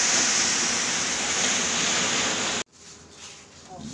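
Sea surf rolling in at high tide along a beach work site, a loud steady broadband roar that cuts off abruptly, leaving a quieter background wash.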